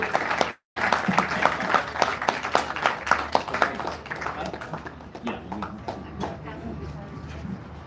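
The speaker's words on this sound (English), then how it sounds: "So you give them all a big round of applause" A crowd at a libertarian political event gives a round of applause. Scattered, moderately loud hand claps continue for several seconds under a speaker's voice, with a brief dropout near the start.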